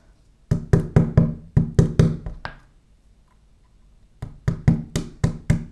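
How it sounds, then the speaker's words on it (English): A rubber mallet tapping a flat artistic wire bangle link, two runs of quick, light, evenly spaced knocks with a short pause between them, close and clear. "I can hold the link and then just tap it with the rubber mallet"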